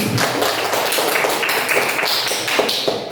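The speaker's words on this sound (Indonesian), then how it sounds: "Ya, berikan aplaus dulu." An audience giving a brief round of applause in a classroom setting, a steady patter of many hands clapping up close.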